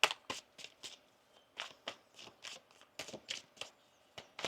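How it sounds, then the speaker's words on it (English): A deck of tarot cards is shuffled by hand in a series of crisp, quick riffles and flutters, close and quiet, coming in irregular bursts separated by short pauses. "One more shuffle here."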